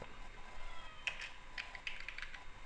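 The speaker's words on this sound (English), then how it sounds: "Oh, hello kitty. Cute cat." A few faint, short cat meows sound indoors beside a computer, mixed with light keyboard typing and a quiet room hiss.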